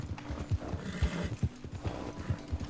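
A horse gallops in Red Dead Online, its hooves pounding out a steady, close clip-clop rhythm in quick repeated beats, with no voices over it.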